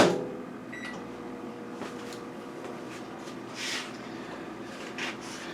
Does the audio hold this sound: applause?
no